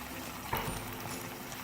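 Half a cup of water is poured into a pan of chicken jalfrezi, a brief, soft liquid splash over a steady background hiss with no talking.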